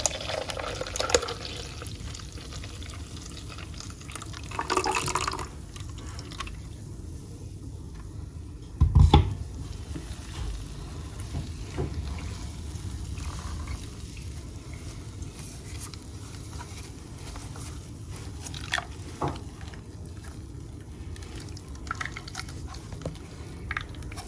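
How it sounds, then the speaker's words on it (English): Spicy millet drink being strained through a sieve, with soft trickling and dripping liquid close by, quiet and uneven, broken by a few small clinks. "Let's go ahead and strain it. Go ahead and sieve it."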